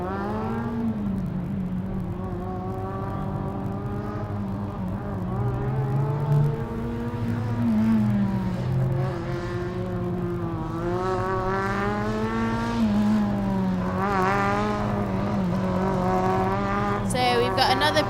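A Formula Student race car from the University of Cambridge runs an autocross lap at Formula Student Germany 2012, its engine a steady whining drone that rises and falls, heard under continuous commentary.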